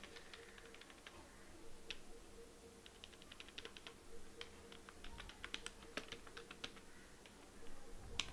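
HTML code being typed on a computer keyboard produces quiet, close clicking keystrokes in irregular bursts and runs, with brief pauses between them and no talk.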